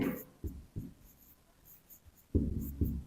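Pen scratching across paper in short separate strokes, close and fairly quiet, with gaps of near silence between bursts.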